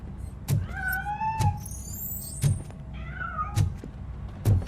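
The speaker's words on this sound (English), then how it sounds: "That cat must be hiding inside." In the video game Robocop Rogue City, a cat meows several times in short, close cries between sharp thumping hits, with a brief squeaky scrape midway as it escapes, no voices.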